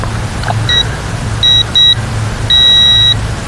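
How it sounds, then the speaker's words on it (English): Electronic beeps from a quadcopter's radio transmitter during binding: four clear high-pitched tones, three short and one long sustained beep, over a low steady background hum. "you heard the beeping from the transmitter"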